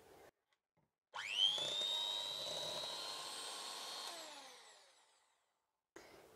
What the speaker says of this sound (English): We'll give this another whisk.